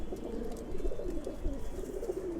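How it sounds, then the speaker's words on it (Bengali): Silver pigeons coo in low, rolling throaty phrases, close and steady, over a faint background rumble. "এই যে একটা মাদি কবুতর আমি নিয়ে আসছি।"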